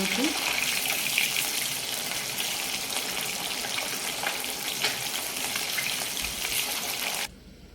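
Fish frying in hot oil in an Odia-style home kitchen gives a steady, dense sizzle that holds evenly close up before stopping abruptly, with a voice talking faintly underneath.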